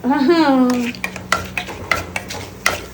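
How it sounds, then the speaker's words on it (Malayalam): Dried red chilies and curry leaves sizzling in a little hot oil, close and crackling with scattered stirring clicks of a utensil against the pan, after a brief voice at the start. "ഇച്ചിരി എണ്ണ ഒഴിച്ചു, കടുകിടണില്ല കേട്ടോ, വേപ്പില ഇട്ടു. എന്നിട്ട് ദേ വറ്റൽമുളക്."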